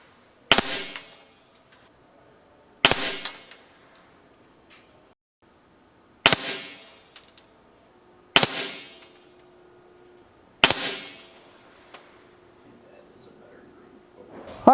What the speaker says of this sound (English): we shot a bunch of pellets at 25 yards